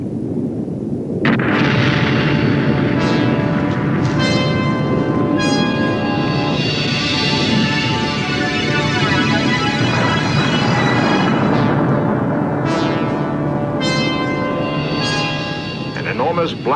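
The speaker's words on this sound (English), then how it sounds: "Black cloud of volcanic cinders and ash shot miles into the air." Mount Vesuvius erupts as a loud, continuous rumbling roar with layered booming blasts, sustained and overwhelming throughout, while a narrator speaks over it.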